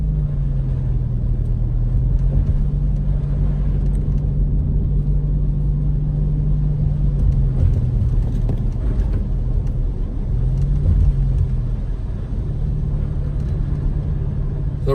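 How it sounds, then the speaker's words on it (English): Steady low engine rumble and road noise from inside a car driving through Big Bear village in the snow, droning continuously with slight changes in pitch. "we're gonna drive through the village"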